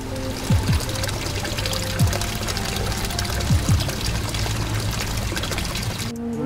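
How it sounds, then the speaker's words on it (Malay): A small waterfall water feature, built from a kit at a mosque garden, gives a continuous close pouring and trickling rush at steady volume, with a few short tonal sweeps over the flow. "bunyian jeruan air terjun yang menenangkan"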